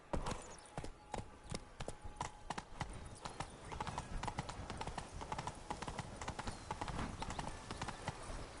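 A horse gallops in a video game's fairy-tale land setting, its hoofbeats a rapid, even clip-clop that runs throughout at a fairly quiet level, with no voices.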